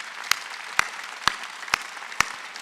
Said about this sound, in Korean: 박수 세게 치라고.